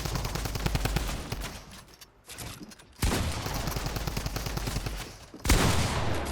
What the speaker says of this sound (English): Look, all of a sudden, everyone's shooting.